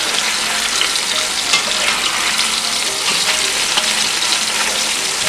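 Chicken pieces sizzling steadily in a hot pan after being flipped, an even, crackling fry for arroz con pollo that continues throughout without speech.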